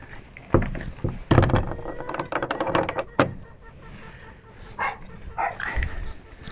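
A dog barks in a few sharp, close bursts, with thuds and knocks around them, then quieter scattered noises follow.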